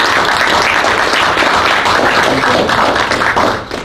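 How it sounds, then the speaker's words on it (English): Audience applause for guest speakers at a real estate talk, dense sustained clapping filling the room at close range and holding steady before easing off at the very end. "So a big hand of applause to our"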